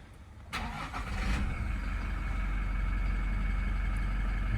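A Toyota Hilux GD-6 RS Legend with a 2.8 liter diesel engine starts with a sharp crank and catch, then settles into a steady, close diesel idle heard from inside the cab.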